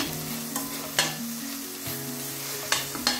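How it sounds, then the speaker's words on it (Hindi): Chopped vegetables stirred and sautéed with onion in a pan for homemade pasta, a steady close sizzle broken by a few sharp spoon scrapes, with no talking. "इनको हम थोड़ा सा सौते करेंगे इसके अंदर, थोड़ी सी सॉफ्ट हो जाएंगी"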